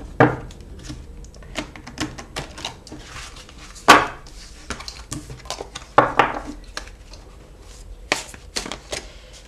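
Tarot cards are being shuffled by hand, giving irregular crisp clicks, riffles and sharper snaps of cards against each other and a table, close up and without talk.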